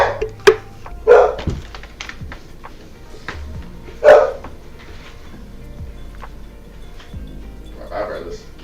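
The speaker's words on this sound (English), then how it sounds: "You probably still hear the dog," A pet dog barks behind a closed door, a few sharp barks early on and then fainter, muffled ones as a person talks over them.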